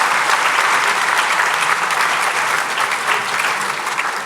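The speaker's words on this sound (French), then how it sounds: "On peut applaudir Sarah et Jean-Yves." A university audience at an academic year opening ceremony claps steadily, a dense and loud burst of applause filling the room without pause.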